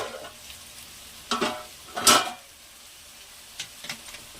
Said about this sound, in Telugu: నూనెలోనే బాగా వేయించాలండి చికెను.